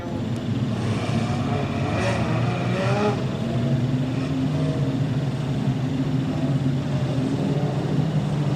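Modified sedan race cars at Kingaroy Speedway, a steady loud engine drone with a rising roar around two to three seconds, continuous throughout.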